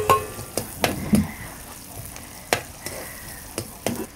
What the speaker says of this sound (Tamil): சின்ன வெங்காயம் இதை வந்து கறியில் கொஞ்சம் போடுறேன் பாருங்க